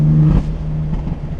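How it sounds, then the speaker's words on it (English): BMW M4 with an aftermarket exhaust gives a loud, steady engine drone that drops slightly after a brief swell, close and alone with no talk. "It's so crazy how just an exhaust can change so much."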